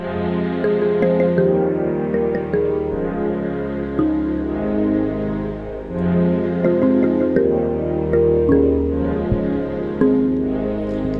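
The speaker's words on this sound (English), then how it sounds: "That was like a kalimba sound from Chromaphone" Soft, plucked synthetic kalimba tones from Chromaphone play a gentle repeating melodic pattern over a sustained pad in a beat, steady and continuous with no voices.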